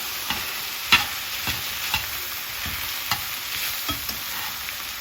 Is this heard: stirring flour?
yes